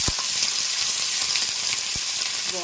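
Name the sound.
karonda berries cooking in oil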